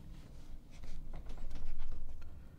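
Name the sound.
trimming ragged synthetic winch rope ends with a sharp knife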